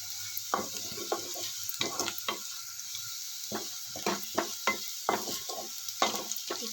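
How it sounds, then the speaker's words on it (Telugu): Semiya vermicelli is fried and stirred in a pan for upma, with a soft background sizzle and a run of distinct, rhythmic scraping strokes close by. No one speaks. "ఇప్పుడు ఇవి వేగిపోయినాయండి"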